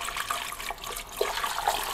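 Water pours steadily into a jar for about two seconds at close range, with a continuous trickling splash and no talk.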